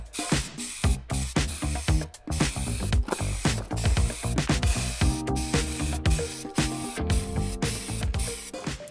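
Montana spray paint is sprayed onto a plastic engine cover from a Toyota 1JZ engine in a Chaser, with steady close hissing pulses interrupted by brief stops and the rattle of the can, no talk.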